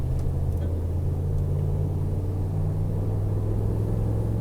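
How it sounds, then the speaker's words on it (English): A 2012 Ram Mega Cab pickup truck drives along, heard from inside as a steady, loud low rumble of engine and road noise with no breaks. "We're just going to drive around the section and see what happens."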